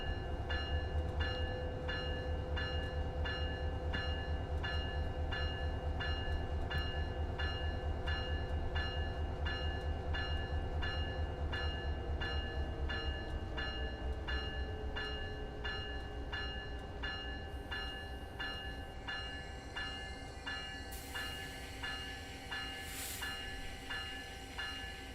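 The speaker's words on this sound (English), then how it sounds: "Nice brake squeal." A Caltrain train in Train Sim World 6 rumbles steadily while its brakes squeal, a sustained high metallic whine layered over the running noise with a brief horn-like tone near the end.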